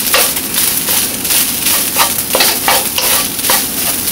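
Garlic fried rice turned over in a hot pan sizzles loudly and close, with rhythmic bursts of scraping and tossing every half second or so over a constant frying hiss.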